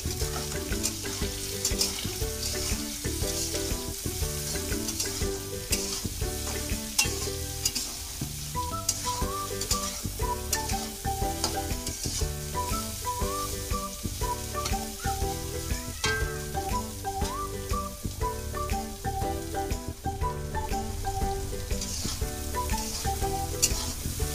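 Soybean curry with turmeric is stirred in a frying pan, loud sizzling under repeated metallic scrapes and clinks of a spoon against the pan in an uneven rhythm.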